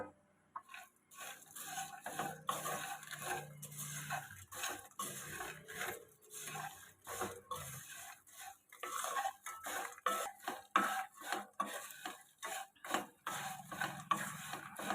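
Fried okra mixture being stirred and tossed in a metal pan, with steady scraping and clinking of a spoon against the pan and soft sizzling, close and continuous without pauses.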